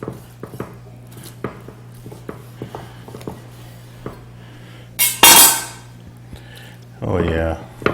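Knife slicing a smoked rack of pork into chops on a board, with sharp repeated taps and clunks, a louder scraping cut midway and a later rough scrape, close and clear over a low steady hum.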